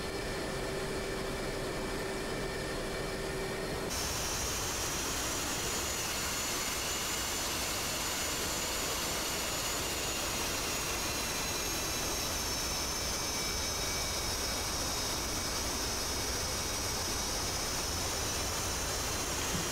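Steady jet engine roar from an F/A-18C Hornet taxiing on an aircraft carrier deck in the DCS flight simulator, a continuous broadband rush with a faint high whine, even and unbroken throughout.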